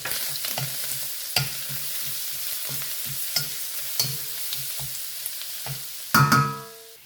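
Garlic sizzling steadily in a hot pan for java rice, with a utensil scraping and stirring in a regular rhythm and a louder clatter near the end, close and clear with no talking.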